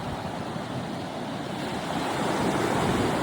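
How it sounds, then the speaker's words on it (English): Rough ocean surf rolls onto a beach in a steady, broad wash of noise that swells slightly louder toward the end, with some wind buffeting the microphone and no voices. "Look at this beach we found."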